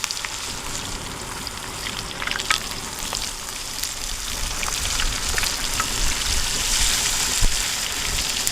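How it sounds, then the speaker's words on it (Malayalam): Beef rib lollipops deep frying in hot oil give a steady, dense sizzle with scattered pops and crackles, loud and close throughout with no talking. "ഇനി ലോലിപോപ്പ് വറുത്തെടുക്കുക."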